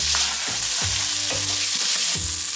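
Shrimp fried rice with freshly added peas fries in a pan, a loud close sizzle broken by several rhythmic scraping stirs and thumps of the spatula, no voices.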